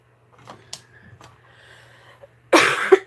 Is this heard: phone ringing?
no